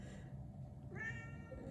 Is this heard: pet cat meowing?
yes